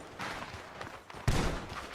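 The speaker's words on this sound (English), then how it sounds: "Gunshots are coming from that barn!" Gunfire rings out from a barn in the video game Red Dead Redemption 2, a few distant muffled shots among ambient noise.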